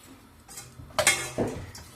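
A utensil stirs in a bowl, making a few brief clinks and scrapes against the dish, close and fairly clear, with no talking.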